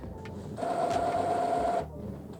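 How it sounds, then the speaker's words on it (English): Brother MFC-J4340DW inkjet printer cleaning its printhead, a steady mechanical buzz and whir with a sustained tone that runs for about a second and a half, then drops back to low background noise. "you'll start hearing lots of buzzing and whirring from your printer"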